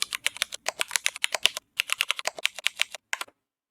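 Fingers type quickly on a computer keyboard while an email address is entered, a close, crisp run of clicking keystrokes with a short pause midway, ending abruptly in silence.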